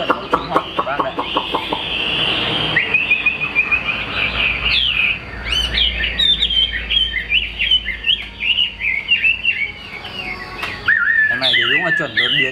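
A white-winged mutant hwamei, or melodious laughingthrush, sings loud and close. Its rapid warbling phrases and whistled trills come in varied bursts, with some clucking fowl-like calls early on and faint background noise.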